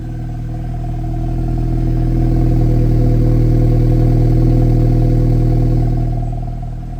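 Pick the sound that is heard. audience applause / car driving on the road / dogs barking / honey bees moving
car driving on the road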